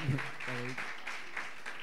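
A church congregation gives faint, brief applause for Pastor Karen, a soft patter of clapping running under a short spoken voice.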